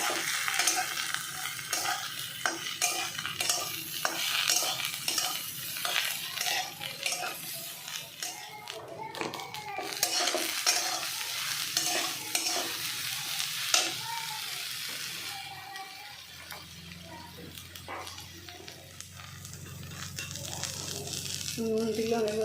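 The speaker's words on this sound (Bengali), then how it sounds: "প্রথমে নিম পাতাটা দিয়ে দিলাম তেলের মধ্যে, এরপরে বেগুনটা দিয়ে দিলাম" Brinjal and neem leaves frying in hot oil in a pan, a steady sizzle with repeated scraping and stirring strokes running throughout, close by, while a voice talks over it.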